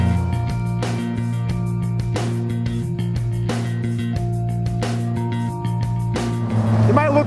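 Polaris Slingshot engine revving up and down through a downshift to second and back up to third, loud and close with a harmonic drone that rises and drops at each shift, a voice talking over it.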